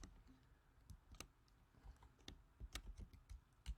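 Typing on a computer keyboard, a quiet run of irregular clicks and taps at close range, with no other sound.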